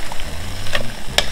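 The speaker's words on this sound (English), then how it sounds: "So I'm just gonna keep stirring it up." Seafood gumbo stirred in a pot over medium-high heat, with a steady close sizzle under the stirring and a couple of sharper scraping strokes against the pot.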